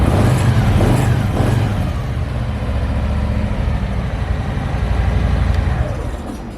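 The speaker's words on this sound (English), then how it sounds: "throttle is going to sound quite muted due to the stock exhaust" A 2022 Harley-Davidson Softail Street Bob 114 with stock exhaust idles then revs gently, a low muted exhaust rumble rising and settling, steady and close with no talking.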